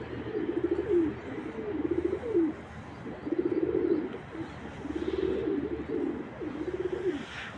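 Tumbler pigeons coo in a rhythmic series of soft, rolling calls close by, several bursts repeating evenly over a quiet outdoor background in Ankara.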